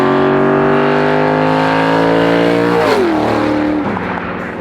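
A 1,000 hp naturally aspirated 510-cubic-inch Chevy truck engine revs loud and close, a rich buzzing roar that holds steady, then drops in pitch in two quick steps as the throttle lets off and fades slightly.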